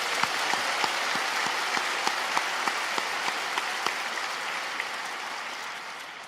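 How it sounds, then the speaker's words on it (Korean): Congregation applause fills a large church at a New Year's Eve into New Year service, a dense, steady wash of many hands with a few sharper claps poking through, sustained throughout and easing slightly at the end. "우리 하나님께 감사의 박수 한번 올려드리겠습니다."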